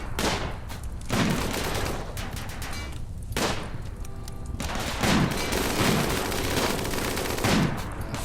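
Dense gunfire from the colony-building game Rimworld crackles in rapid bursts and volleys, loud and continuous, with brief gaps between exchanges and no voices.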